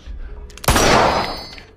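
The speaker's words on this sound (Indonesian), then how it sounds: "Moni yang panik langsung menembakkan pistolnya ke atas." A pistol fired upward in a tense scene from the film Don't Breathe: a single sharp, loud report with a ringing tail that decays over about a second, after a quiet stretch of low ambience.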